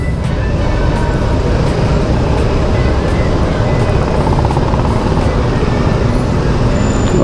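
Steady city street traffic in Aizawl, Mizoram, a dense continuous roar of engines and road noise with no clear pauses, filling the scene loudly and evenly throughout.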